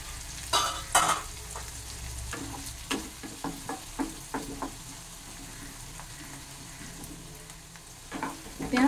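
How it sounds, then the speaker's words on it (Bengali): Onions fry in a hot pan while a spatula stirs them in a string of scraping strokes over a low, steady sizzle, close up and without talk. "পেঁয়াজটা আমার হালকা ভাজা হয়েছে। এবার এটাকে একটু নেড়ে চেড়ে দিচ্ছি।"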